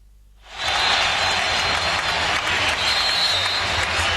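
A basketball arena crowd of Philadelphia 76ers fans roars and cheers during a 2001 Eastern Conference Finals game against the Milwaukee Bucks, a loud, sustained wash of crowd noise that swells in after a brief quiet start.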